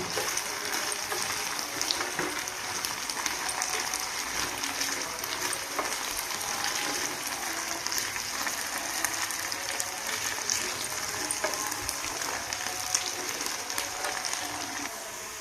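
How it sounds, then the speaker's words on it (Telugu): Potatoes fry in a pan with a steady, crackling sizzle of hot oil, dense and continuous at close range for the whole stretch. "బంగాళదుంప అయితే ఫ్రై అయిందండి"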